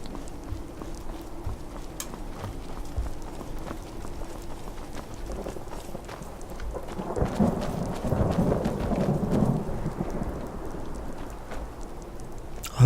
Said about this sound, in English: Enjoy the thunderstorm as well while we're about it.